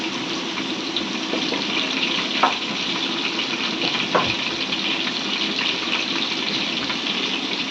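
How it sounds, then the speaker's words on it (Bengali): Chopped onion and bay leaf fry in a pan, a steady dense sizzle running throughout with a couple of brief stirring clicks, no talking. "রান্না করার জন্য পেঁয়াজ কুচি তেজপাতা দিয়ে দিয়েছে ভালো করে মেরে দিয়ে নিচ্ছে"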